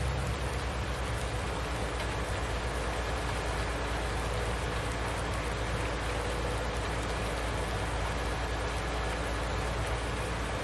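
A steady, broadband hiss of rain falls in Farming Simulator 19, constant and even throughout with a low rumbling undertone and no voices.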